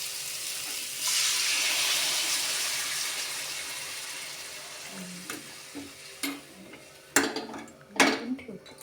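Water tipped into a cooking pot of thin drumstick-pod curry makes a rushing, hissing pour that fades over several seconds, followed by a few sharp metallic clinks and scrapes of utensils against the pot.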